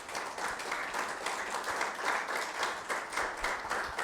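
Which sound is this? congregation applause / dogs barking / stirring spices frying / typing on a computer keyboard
congregation applause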